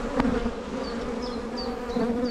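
Honeybees buzzing close by at an open hive, a steady droning hum with brief higher-pitched passes from individual bees, and no voices.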